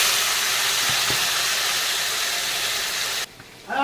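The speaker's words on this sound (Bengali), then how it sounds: "এখন আমি বাঁধাকপির জন্য তেলের পরে আলুটাকে ভেজে নেব।" Potatoes frying in oil left over from frying katla fish, a steady close sizzling hiss that runs for about three seconds, then drops away abruptly before a brief return.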